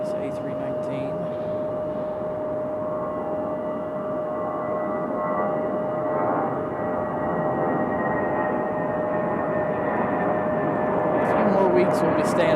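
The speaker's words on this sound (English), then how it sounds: "Last departure here, this A319." Airbus A319 jet departing Raleigh-Durham International Airport, a broad steady roar that builds slowly in loudness as the aircraft climbs away, with a steady tone riding over it.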